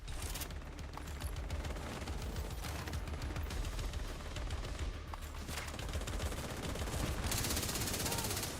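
The Bullet King machine gun in The Division 2 rattles off long, sustained automatic bursts, loud and dense, with other gunfire and game effects layered throughout.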